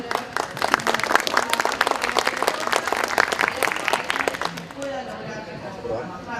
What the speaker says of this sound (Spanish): bienvenida a Franco Amatí del Campus Party, por favor, un fuerte aplauso.